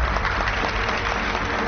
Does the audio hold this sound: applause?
yes